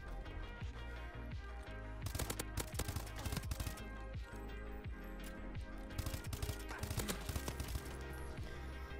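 Rapid automatic gunfire from a Call of Duty match, dense bursts of loud shots running continuously with sharper volleys stacked on top of a busy game soundscape.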